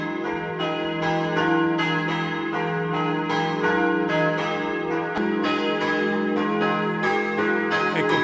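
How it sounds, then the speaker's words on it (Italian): Church bells of the church in Torlano, Friuli, Italy, ring loudly and continuously, overlapping peals with rich sustained tones and rhythmic strikes throughout, no voices. "Ascoltiamo il suono delle campane,"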